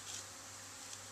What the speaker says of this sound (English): Bees are a little feisty today.